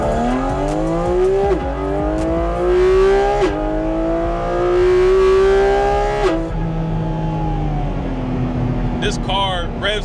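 A 2023 Porsche 718 Cayman GT4 RS with a 9,000 rpm engine revs hard several times, the pitch climbing in sharp sweeps and falling back between bursts, loud and close, with a brief voice near the end.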